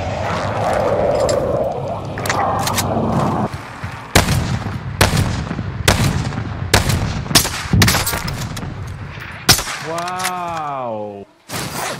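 Gunfire in the Warzone video game crackles in repeated sharp bursts of shots, loud and close, with a vehicle or aircraft rumble and a whining sweep near the end.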